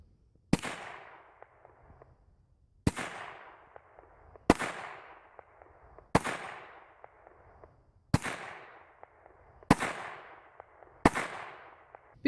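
Seven loud, sharp gunshots ring out one at a time about every one and a half to two seconds as a gun is fired at targets outdoors in Minnesota, each crack followed by a short fading echo.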